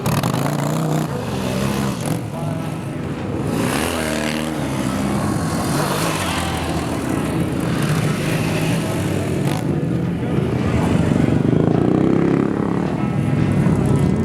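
A 1954 Triumph Tiger vintage British motorcycle rides at Glen Helen Raceway in the California desert, its engine a loud, continuous rumbling drone with gear changes and rising revs, heavy wind buffeting throughout.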